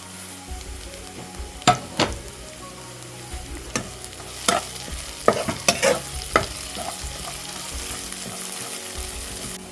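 Curry leaves sizzle in hot oil in a pan with shallots, ginger and green chilli, a continuous frying hiss broken by several sharp scraping and clacking strokes of a spoon against the pan.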